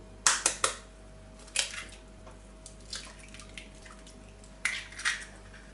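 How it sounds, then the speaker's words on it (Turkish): Three eggs cracked into a whisking bowl for crepe batter: a few sharp close taps and clicks, then sparse wet drops and knocks in a quiet kitchen with a low steady hum. "Çırpma kabının içerisine 3 tane yumurtamızı kıralım."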